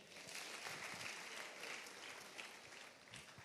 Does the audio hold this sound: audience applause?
yes